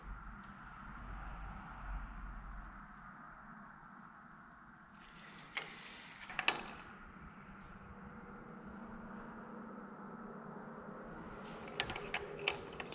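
A wrench tightening the pinion nut on a Ford 8-inch rear axle from a 1965 Mustang Fastback, faint metallic clicks and creaks over a low background hum, a few sharper knocks near and quiet.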